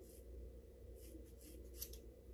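Scissors snip through hair in a few quick, faint cuts over a low steady background hum, with no speech.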